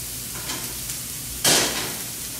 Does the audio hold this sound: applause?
no